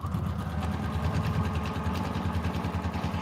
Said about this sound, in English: the tape on my sewing machine makes sewing a 1/4 inch seam mindless